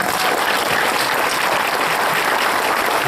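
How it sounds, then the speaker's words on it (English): An audience at a Leech Lake Band of Ojibwe gathering gives doctors a round of applause, a dense steady wash of many hands clapping, loud and continuous with no talk. "Give our doctors a round of applause."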